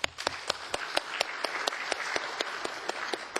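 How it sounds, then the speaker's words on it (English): A round of applause for a working group at a conference on an African partnership against desertification and land degradation, heard as sparse, distinct claps spaced through the clip over a steady hall murmur. "I would like, if with your concurrence, to propose that we adopt the group report and give them a round of applause."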